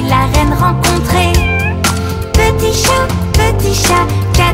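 In a French children's nursery song about a little cat, loud bright music plays with catchy melodic phrases and a sung or voiced meow-like imitation woven through the tune.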